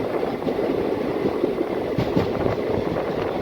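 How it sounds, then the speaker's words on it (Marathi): The Tapovan Express rolls through a station at high speed in the rain, a steady loud rumble with rhythmic wheel clatter on the rails heard from on board, no talk. "एकदम जबरदस्त स्पीडमध्ये मित्रांनो आपली ट्रेन जी आहे ती या ठिकाणी"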